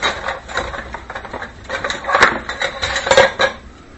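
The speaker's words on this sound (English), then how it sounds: "I'm going to ladle some sauce on there." A ladle clinks and scrapes against a pot while Italian gravy is scooped out, several sharp metallic knocks among softer kitchen clatter.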